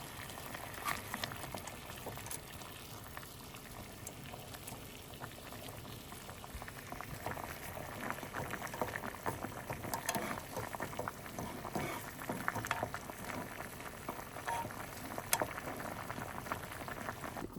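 A pot of water boils on the stove in a van for noodles, giving a steady, fairly quiet rolling bubble with scattered pops and no voices.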